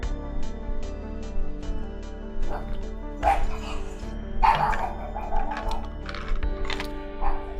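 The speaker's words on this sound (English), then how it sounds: "Attack dogs, at it again." Attack dogs in the video game Look Outside barking repeatedly in short, sharp bursts of moderate loudness over a steady game soundscape, with a voice talking now and then.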